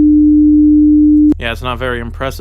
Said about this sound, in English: So now you have a sine wave of 300 Hertz